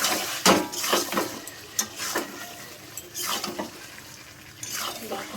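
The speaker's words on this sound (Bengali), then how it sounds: "ভালো করে কষিয়ে ভালো করে কষিয়ে নেব মাংসটাকে।" Chicken being browned and stirred in a pan, a spoon scraping and clattering against the metal in irregular strokes over a soft sizzle, close and moderately loud with no talking.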